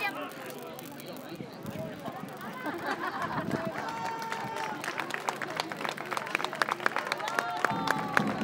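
Scattered clapping from a small comedy audience at a live show, thin and uneven, mixing with crowd murmur and chatter that build slightly toward the end.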